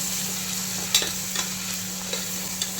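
Two tomatoes, thinly sliced lengthwise, sautéing in a pan for Muslim-style ghee rice: a steady close sizzle with a few sharp spatula scrapes and taps, over a constant low hum.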